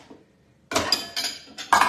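A mixing bowl is set down and put away in a home kitchen, making a few sharp clinks and clatters of dishware after a quiet start.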